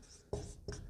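A pen or marker writes on a board or paper during a reasoning lesson, giving two short scratchy bursts of strokes close to the mic with a brief pause between them.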